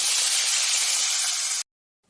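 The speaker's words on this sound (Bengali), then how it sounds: "এখন আমি চালটা ভেজে নিব গোবিন্দভোগ চাল" Gobindobhog rice dry-frying in a pan gives a loud, steady, broadband hiss for about a second and a half, then cuts off abruptly into silence.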